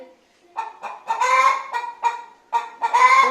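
Chickens clucking in a loose series of short, uneven calls, close and fairly loud, with no talking.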